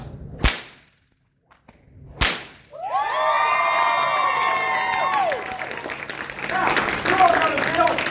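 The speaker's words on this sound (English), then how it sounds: "As soon as the head of that flower hits the ground and you want to cheer, scream, and go crazy" Two sharp whip cracks ring out alone at a live stunt show, then a crowd bursts into loud cheering, screaming and clapping that carries on to the end.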